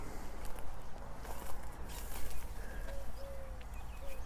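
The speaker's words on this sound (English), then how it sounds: "There the birds went by again now" Pigeons give a few soft coos outdoors over a rustling, uneven background with faint wing flutters, moderately close and without talk.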